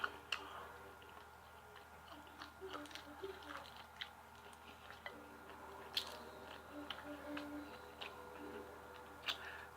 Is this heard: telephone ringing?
no